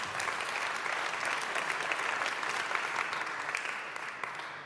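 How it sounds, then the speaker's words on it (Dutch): Sustained audience applause fills a hall at a Dutch presentation of a government advisory council report on artificial intelligence, a dense even wash of many hands clapping that stays steady and loud, then eases slightly toward the end. "Mag ik een applaus voor de heer Van Bellen"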